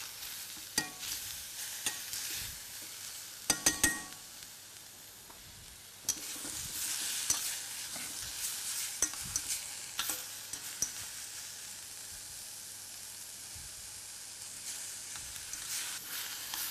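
Onions cooked with sugar while caramelizing, stirred constantly in a pan; a soft, even sizzle runs throughout, punctuated by sharp utensil scrapes and clicks against the pan, clustered early and scattered later.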